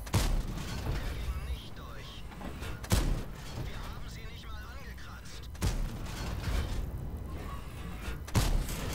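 Tank cannon shots in World of Tanks, fired roughly every three seconds as sharp booming blasts, heard alongside game sounds and someone talking.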